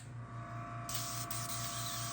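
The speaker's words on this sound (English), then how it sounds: "we're going to spray the cleaner out of the internals of the airbrush" An airbrush sprays cleaner out of its internals, a steady hiss of air starting partway through, over a constant mechanical hum with a regular pulsing beat from a compressor.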